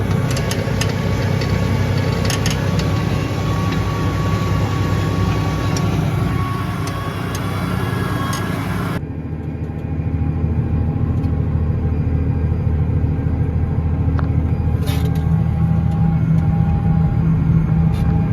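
A tractor in four-wheel drive with diff lock engaged drones steadily while pulling a Standen BX4 potato bed ridger, its engine a loud, continuous rumble that shifts tone partway through, with no talk.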